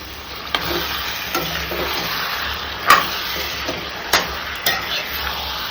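Ginger paste frying with mutton in a pan makes a steady close sizzle, broken by a few sharp scrapes and knocks of stirring.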